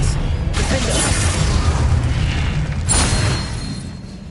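Spell blasts in the video game Hogwarts Legacy rumble as loud, sustained booming explosions with a couple of sharper bursts, one near the start and another around the three-second mark.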